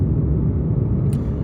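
A 2020 Hyundai Ioniq electric car driving, heard from inside the cabin as a steady low road rumble with faint tyre noise and no engine note.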